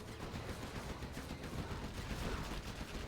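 A Gatling cannon fires in a Command & Conquer match. The rapid, continuous bursts are quiet and sound distant, overlapping in a dense rattle for a few seconds.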